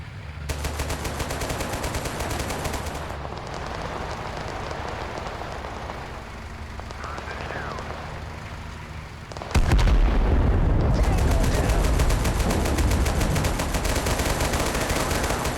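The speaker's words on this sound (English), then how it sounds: "Who's firing those RPGs and where are they coming from?" RPGs and heavy weapons firing in the Total Conflict: Resistance video game, a continuous roar of distant explosions and gunfire that swells sharply in the last third, with no voices.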